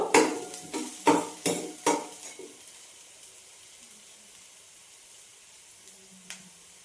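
Radish frying in a pan is stirred with a utensil, making about six sharp scraping clinks in quick succession before it settles into a faint, quiet sizzle and one last soft tap.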